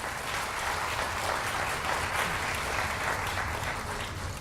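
Audience applause opening a Yongin mayoral candidates' social welfare policy presentation before the 6.13 local elections: a thick, continuous wash of clapping from a full room, steady and moderately loud, with no speech over it.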